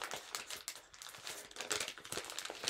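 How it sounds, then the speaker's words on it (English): A square of paper being creased and folded for an origami praying mantis, giving close, faint bursts of crinkling and crisp rustling with brief pauses, no talking. "Make sure you just fold it well."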